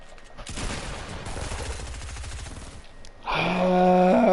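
Rapid bursts of SMG fire in a video game for about three seconds, a dense crackling fusillade up close, followed by a brighter tonal game sound.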